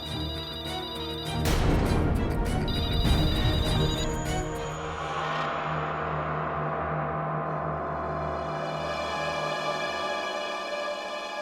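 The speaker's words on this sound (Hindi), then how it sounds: "फोन मत उठाना, कोई फोन मत उठाना।" A telephone rings loudly and insistently, its bright electronic trill repeating in bursts before settling into a sustained, ringing tone.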